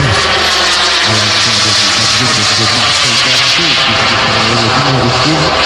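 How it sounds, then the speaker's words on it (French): A delta-wing model jet aircraft roars past at an air show, a loud sustained engine whine filling the whole stretch while a commentator talks over it. "Les écarts de vitesse des avions à configuration sur Delta sont impressionnants."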